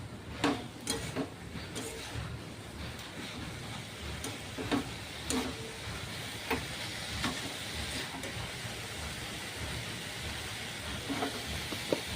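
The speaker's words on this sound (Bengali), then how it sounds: "আমি একটু ঢাকা দিয়ে দিয়েছি গ্যাসের মধ্যে, তো একটু ভালো করে সিদ্ধ হয়ে যাবে তাড়াতাড়ি" Greens simmering under a lid on a gas stove, with a steady hiss of steam and scattered faint ticks and rattles throughout.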